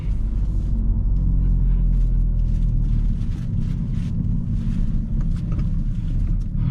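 A Hyundai Elantra N on the road gives a loud, steady low engine and road rumble from inside the cabin, holding even with no speech.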